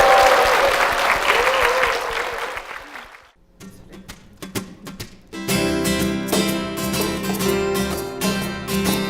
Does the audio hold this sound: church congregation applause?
yes